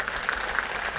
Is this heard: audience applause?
yes